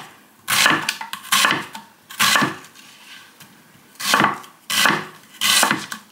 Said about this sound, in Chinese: 把洋葱切成细条